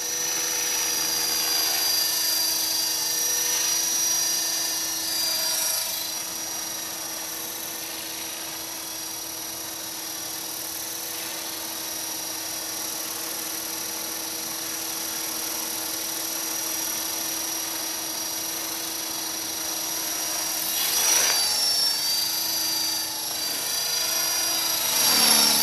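T-Rex RC helicopter with onboard camera, flying at idle-up: a loud, steady high-pitched rotor and motor whine with a constant drone, swelling slightly at moments throughout.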